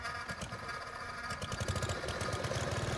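A tractor engine in Farming Simulator 25 chugs in a steady, throbbing low rumble, with quick rhythmic pulses like a close, idling diesel, heard alone.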